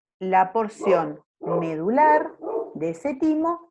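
A dog barks several times in a room, its sharp yips and bow-wows mixed in with continuous talking by a person giving a lecture.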